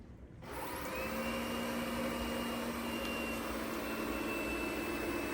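A Yeedi by ECOVACS Cube robot vacuum starts up in vacuum mode and settles into a steady, close, continuous whirring hum, with a faint high whine over the top and no talk.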